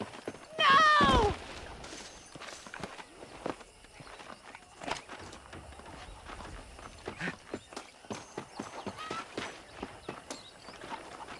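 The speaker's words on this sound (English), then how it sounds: "I picked out a fine horse for you" In Red Dead Redemption a horse gives a loud, sharp whinny up close, followed by a long run of soft, rhythmic clip-clopping hooves as it walks along, fairly quiet and steady.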